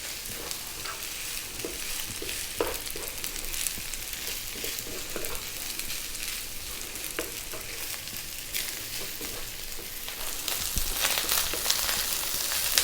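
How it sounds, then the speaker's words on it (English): Cilantro rice fries in a pan over medium heat with a continuous bright hiss and sizzle, punctuated by occasional scrapes as it is stirred around, close and fairly even throughout. "Let's fry this around. We are so nearly done to make this really super tasty, easy cilantro or coriander rice."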